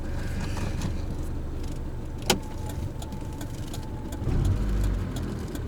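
A 1995 Kia Pride with a manual gearbox idles in a low, steady rumble inside the cabin, with one sharp click partway through and the engine swelling slightly louder near the end as it begins to move.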